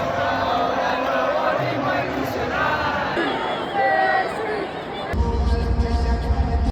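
A soccer game crowd cheers in a loud, continuous roar of voices and whoops. A sharper surge of noise swells near the end.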